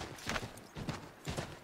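A horse's hooves clip-clop in Assassin's Creed 3, three distinct evenly spaced pairs of hoof strikes close and clear as the animal trots along.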